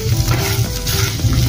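Bitter gourd (karela) frying in a little oil in a pan, with a steady soft sizzle and some stirring scrapes, close by.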